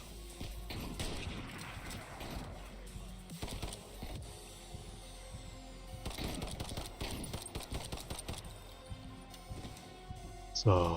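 Rapid bursts of video game gunfire crackle in quick clusters before a switch to a pistol, with a player talking over much of the action.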